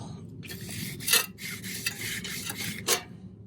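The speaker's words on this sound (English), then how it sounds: "I got my sandpaper right here, 200 grit." Hand sanding with 200-grit sandpaper on painted VW Bus engine tin, giving repeated raspy back-and-forth rubbing strokes at close range, with a few sharper scraping bursts.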